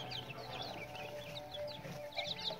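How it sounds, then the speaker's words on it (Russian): Quail chicks and chickens together in a brooder, with a steady mix of faint high cheeping and soft clucking from several birds close by, and no voices. "Перепелята и цыплята."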